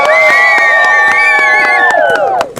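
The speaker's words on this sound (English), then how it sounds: "Why are you clapping so hard for the ops?" Crowd of people cheering and whooping loudly during a vote at an 1800s soldier reenactment camp, sustained shouts close and intense for a couple of seconds with some clapping underneath, fading at the end.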